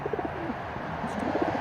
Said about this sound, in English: There's some feral pigeons out here.